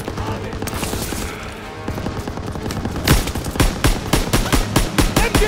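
Machine gun fire in the World War II shooter Call of Duty: WWII comes as loud, rapid bursts of gunshots. Sharp, evenly spaced reports build into sustained fire toward the end, while shouting soldiers are heard under it.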